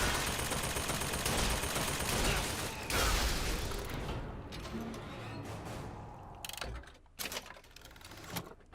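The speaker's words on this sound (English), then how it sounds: "That sounds like a turret!" An automated turret in Bioshock Infinite: Burial at Sea rattles out rapid mechanical gunfire, a dense clattering burst that tapers into sporadic sharp shots and clicks, with no talk.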